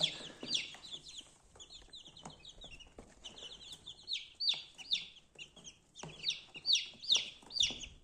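Many newly hatched chicks, just out of the incubator, peeping in high, rapid chirps, overlapping and continuous, with brief louder bursts; no talking.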